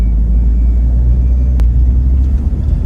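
A Porsche 986 Boxster rolls along the road, heard from inside as a loud, steady low rumble of engine and tyres with one sharp knock partway through.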